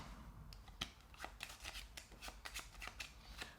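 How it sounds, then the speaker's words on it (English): A deck of playing cards being shuffled at close range, with a run of crisp riffling bursts and soft flutters repeating through the clip, no talking. "So if you were to cut off any number of cards, like 10 or 20 or less, it's up to you, those, and shuffle them."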